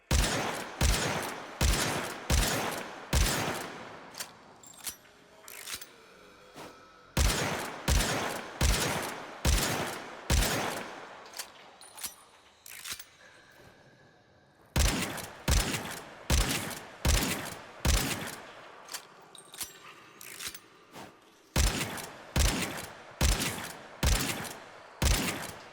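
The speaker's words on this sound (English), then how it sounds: "it shoots a buckshot that is great for killing larger groups of enemies" A secondary weapon in the video game Warframe fires buckshot in rapid bursts. Sharp, loud, evenly spaced blasts come in clusters of four to six, with short quiet gaps between volleys. No voices are heard.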